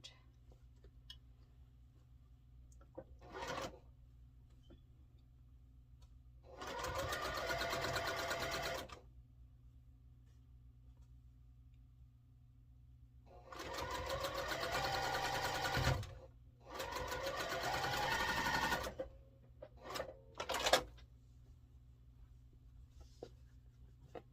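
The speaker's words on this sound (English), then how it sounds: "we're just going to match up those seams, those center seams right there on each block" A sewing machine stitches quilt block seams in patchwork pieces, running in three separate bursts of fast, even mechanical chatter with quiet pauses and a few short clicks between them.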